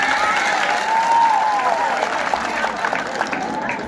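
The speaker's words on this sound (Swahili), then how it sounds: "Tumapigie makofi kwanza." A church congregation clapping for its leaders, a lively spread of applause with voices calling and a tonal sound sliding through the middle.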